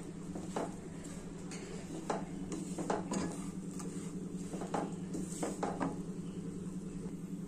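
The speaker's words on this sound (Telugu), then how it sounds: "రెండు నిమిషాలు బాగా వేయించుకోవాలండి" Broad bean paste frying in oil in a pan for a bean curry with garlic, giving a soft continuous sizzle under repeated scraping and clinking of a spoon stirring against the pan.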